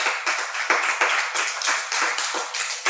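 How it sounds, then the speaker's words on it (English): Housemates in a reality show house clapping together, a steady run of loud, close hand claps in quick, even pulses with no talking over them. "I want to ask the housemates to applaud her."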